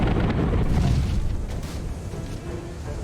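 Cannon fire in the pirate video game Tortuga: A Pirate's Tale, a loud, rumbling explosion booming at once and slowly fading over a few seconds.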